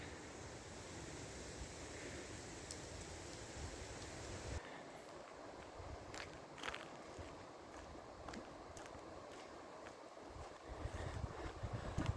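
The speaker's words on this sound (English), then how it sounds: "Love the sound of the wind in the trees." Wind rushes through trees outdoors on a walk, a steady broad whoosh of moderate loudness that shifts in tone partway through and swells again near the end, with no talk.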